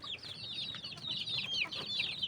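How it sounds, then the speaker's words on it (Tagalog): Chickens cluck and chirp in a busy overlapping chorus, with high peeping chicks mixed among the hens, steady and fairly close. "Ito yung mga sisiyo."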